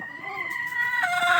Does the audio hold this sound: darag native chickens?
yes